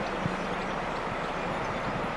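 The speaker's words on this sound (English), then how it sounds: "Sorry about that train if that's a bit noisy." A train passing near an outdoor lakeside spot with trees, a steady broad rumble holding at a moderate, even level throughout without any voices.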